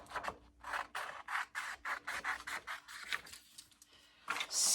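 Scissors snipping through sublimation-printed paper in a rapid series of close, crisp cuts, with a brief louder rustle at the end.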